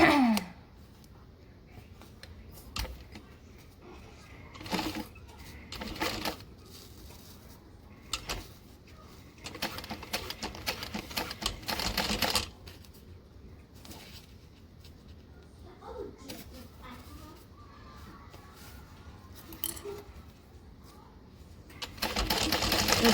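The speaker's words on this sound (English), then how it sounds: "I'm going to top stitch this now, switching to a 5" A sewing machine top stitches a garment in short intermittent runs of quick whirring, close by and moderately quiet, with gaps of fabric handling between bursts and some soft speech.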